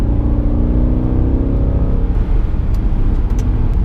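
A tuned Mercedes C63 AMG engine accelerates hard with a deep, loud roar whose tones rise steadily, heard close from inside the car with no talking.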